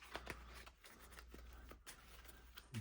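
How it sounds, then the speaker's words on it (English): Harry Potter Hogwarts Battle game cards shuffled by hand, making quiet, close riffling and scratchy flicks in irregular bursts, ending with a soft knock. "So we'll shuffle these 5 into those."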